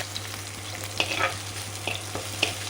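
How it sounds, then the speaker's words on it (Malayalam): Dried red chilies, shallots, garlic, ginger, curry leaves and green chilies frying in oil, a soft steady sizzle with a few sharp crackles and spoon scrapes, over a low electrical hum. "വറ്റമുളക് മൂത്ത് വന്നു അതിലേക്ക് ചുവന്നുള്ളി പിന്നെ വെളുത്തുള്ളി ഇഞ്ചി കറിവേപ്പില പച്ചമുളക് അതൊക്കെ ഇട്ടിട്ട് നന്നായി മൂത്ത് വരാം"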